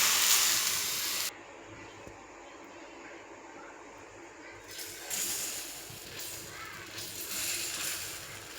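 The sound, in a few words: water sprinkled on hot dosa griddle, hissing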